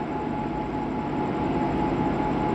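A diesel locomotive, number 22298, heading the Mangaluru–Rameshwaram Express, gives off a steady, loud engine rumble with a constant droning tone that holds throughout, with no voices.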